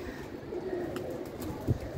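Soft pigeon cooing in the background, low and muffled, with a slightly louder coo near the end over a steady ambient hum.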